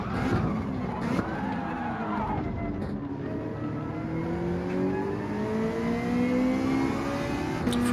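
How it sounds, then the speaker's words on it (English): A Ferrari Gr.4 race car in Gran Turismo 7 at Suzuka accelerates hard, its engine note climbing steadily through the gears with a continuous loud whine and a brief tyre squeal near the start. "Ferrari acceleration there."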